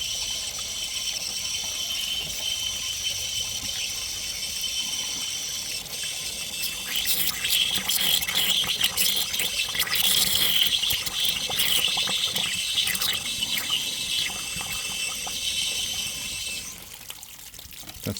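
Water gushes steadily out of the hot water system of a Jayco caravan as it is flushed, making a continuous hissing rush with faint mechanical clicks, nearby and constant.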